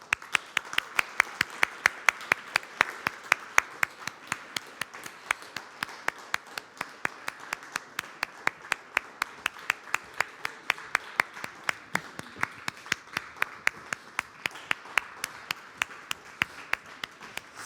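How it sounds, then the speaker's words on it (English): A conference audience at a food innovation summit claps steadily for a team gathered on stage, sharp individual hand claps forming continuous applause heard from a moderate distance. "let's give the really big applause."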